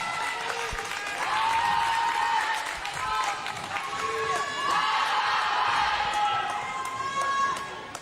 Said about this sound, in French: Allez, applaudissez vos deux équipes